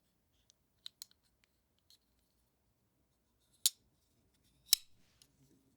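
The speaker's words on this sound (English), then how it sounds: "Double detent ceramic ball action. Sounds like a Rolex." A few crisp mechanical clicks, with two sharp louder snaps standing out, scattered across an otherwise quiet stretch: the double-detent ceramic ball action of an Oz Machine Co Roosevelt XL folding knife opening and closing.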